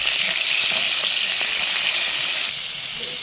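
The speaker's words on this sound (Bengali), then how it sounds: "এখন আমি কড়াইয়ে তেল দিয়ে পেঁয়াজ রসুনগুলো সবগুলো ভেজে নিলাম এবং কাঁকড়াটাও ভেজে নিচ্ছি" Crab frying in oil with onion and garlic in a wok gives a loud, steady sizzle that continues throughout, with faint stirring scrapes underneath and no talking.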